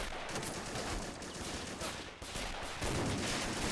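M1 Garand rifles and a 30 cal machine gun firing in a World War II Battle of the Bulge video game: fairly faint, continuous rattling gunfire with dense overlapping shots, growing slightly louder near the end.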